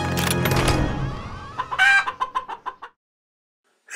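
A burst of rapid chicken clucks in a sound effect from the iOS game Choose your Face, a quick rhythmic series of sharp calls that stops abruptly, no talking.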